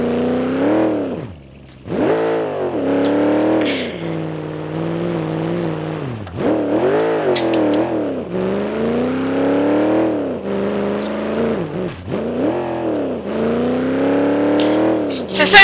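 An off-road car mod in BeamNG Drive revs and strains through mud, its engine note repeatedly climbing and dropping in pitch with brief lulls between surges, loud and close, with a voice talking over it.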